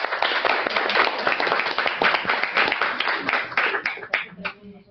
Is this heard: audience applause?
yes